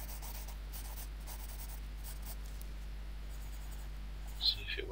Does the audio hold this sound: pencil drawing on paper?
yes